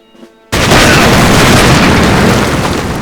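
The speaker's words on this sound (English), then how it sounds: "if I go up here, it'll explode as well" A loud explosion in the video game Silent Storm bursts in suddenly after a brief quiet moment, then a sustained roaring rumble follows and slowly fades.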